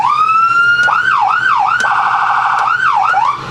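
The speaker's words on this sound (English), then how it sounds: "You've got your air horn up there and your siren" A loud electronic vehicle siren cycles through rising and falling wails, shifting into a rapid yelp partway through, close and continuous with no talking.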